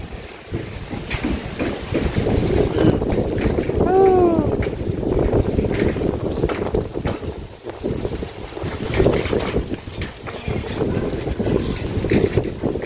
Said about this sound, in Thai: ลมมาแล้ว ลมมาแล้ว